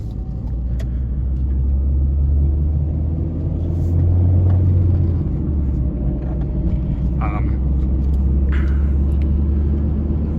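Inside a Honda car driving on the highway, a steady low road and engine rumble drones with tyre noise throughout, with a few faint clicks and rattles and no clear talk.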